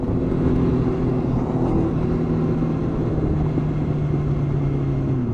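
A car engine drones steadily while driving, a constant low rumble with a sustained hum, close and even in level throughout, with no talking.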